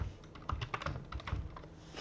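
Fingers tap a password on a computer keyboard in a steady, close run of light clicking keystrokes with no talk.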